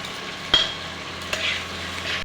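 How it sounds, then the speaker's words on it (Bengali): Ground dry spices hitting a pan and frying, a steady soft sizzle with a sharp scrape of a spoon near the start and another stir midway, close and alone. "আমি শুকনো মশলাটা যে ফ্রাই করে মানে বেটে রেখেছিলাম সেটাও দিয়ে দিচ্ছি।"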